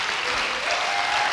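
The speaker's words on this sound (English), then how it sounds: "let's have a big round of applause for Jesse" A conference audience bursts into dense, sustained applause, many hands clapping together at close range without a break.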